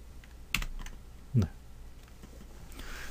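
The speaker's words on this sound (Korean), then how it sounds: "Ctrl K키를 눌러서 표시를 할 수도 있습니다" A few keys on a computer keyboard are pressed, giving sparse soft clicks against a quiet background hum, with one louder thump partway through.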